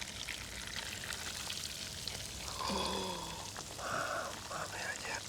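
Rain falls steadily in Rome as a broad, even hiss, with a voice speaking briefly over it partway through.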